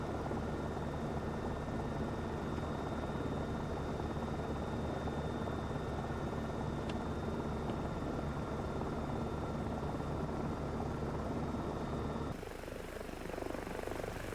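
Steady droning propeller aircraft engine in a flight simulator game during a climb, loud and continuous with an unchanging hum, shifting slightly in tone near the end.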